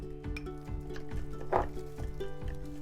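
A batter of eggs, flour, cooking oil, milk and salt for lumpia wrappers is mixed in a bowl, with a quiet, regular tapping and scraping rhythm of the utensil against the side, close and soft.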